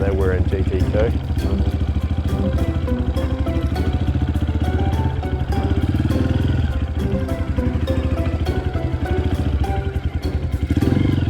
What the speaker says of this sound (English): It's harder than you might think to weave a big, heavy dirt bike between cones like this